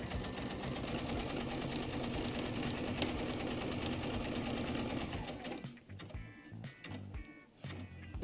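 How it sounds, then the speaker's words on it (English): Sewing machine stitching steadily along a quilt-as-you-go border, a loud continuous mechanical whir for about five and a half seconds before stopping at the corner, followed by brief intermittent bursts and clicks as it pivots. "I'm going to stitch all the way, and I'm going to stop in the corner"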